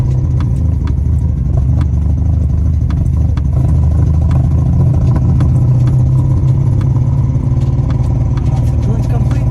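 Datsun car engine running and revving as the driver gives gas during a first drive with the clutch in, a low steady rumble with light clatter and a rising surge, close and loud, with voices over it.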